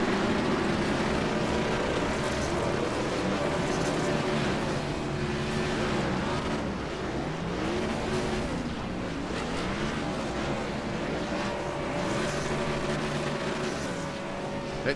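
Race cars in a sim racing video game, a continuous dense roar of several engines on track with rising and falling revs as cars pass and wreck, loud and unbroken.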